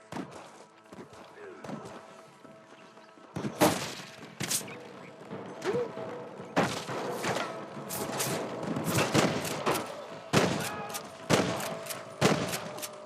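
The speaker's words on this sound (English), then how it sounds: "Damn fine shooting, boys." Gunfight in Red Dead Redemption Remastered on PS5: a dense, loud exchange of gunshots with sharp cracks and heavy thuds, sporadic at first, then rapid volleys, with voices speaking in between.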